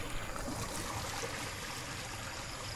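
Monsoon floodwater flows and rises in a continuous broad rushing wash, steady and fairly close, with no voices.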